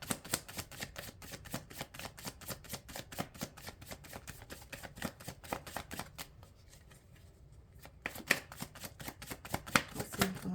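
Tarot cards shuffled briskly in a steady run of crisp riffling snaps, close and alone, pausing briefly before more quick shuffling and card slaps.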